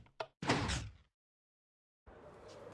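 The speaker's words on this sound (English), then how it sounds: "Sliding doors make this building more wheelchair accessible." Sliding doors open in the Minecraft Education video game with a short knock, then a fuller whooshing slide, then silence before a soft background tone returns.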